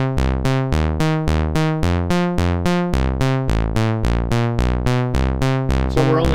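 A modular synthesizer oscillator, pulsed by switched voltage from a Q128, plays a steady train of rich, buzzy tones. About a dozen even pulses repeat in a tight rhythm, loud and close, with no voice.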